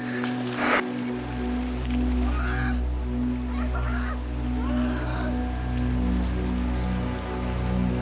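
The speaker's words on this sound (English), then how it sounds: "now it is pouring rain about 10 minutes later" Pouring rain on a British Columbia trail makes a steady, dense hiss throughout, with a brief sharp knock at the start and faint bird calls chirping over the wash.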